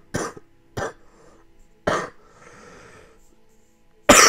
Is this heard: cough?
yes